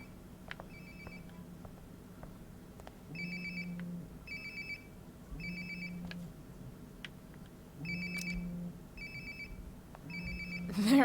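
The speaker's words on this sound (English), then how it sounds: "Sounds like my phone is definitely nearby." A phone rings in the video game Life is Strange: Before the Storm, with five or six evenly spaced electronic ring bursts repeating over a low game ambience.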